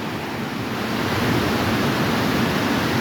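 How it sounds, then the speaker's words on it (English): Water rushing over man-made stone rapid ledges from the 1850s during a flood, a loud, dense, unbroken roar that stays constant throughout with no voices. "And this is a raging rapid."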